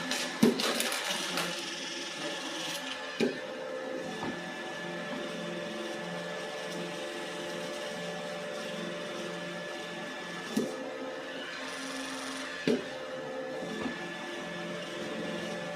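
A steady mechanical whir runs throughout at moderate volume, with a few sharp clicks and knocks scattered across it, from an iRobot Roomba i8+ robot vacuum working across a floor.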